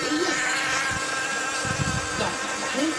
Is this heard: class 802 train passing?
no